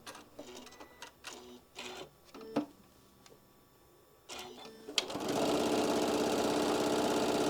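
A sewing machine stitches a drawstring project. Handling noises and short bursts come first, then the machine runs steadily and loud through the last couple of seconds.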